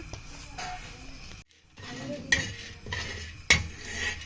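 A spoon scrapes and clinks in a pan as chana dal is stirred and dry-roasted for village-style idli sambar, with intermittent metallic knocks and a soft sizzle while someone talks over it.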